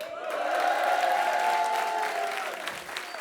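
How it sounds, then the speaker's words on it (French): A comedy club crowd applauds and cheers after a stand-up bit, full sustained clapping with a strong tonal cheer riding over it, steady and loud before easing slightly at the end. "J'imagine que c'est des applaudissements pour ma meuf."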